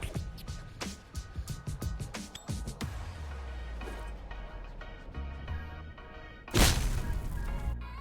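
A grenade in a first-person shooter game clatters and bounces with several sharp knocks, rolls to a stop under a low rumble, then bursts in a loud, sudden explosion that tails off into a dull roar.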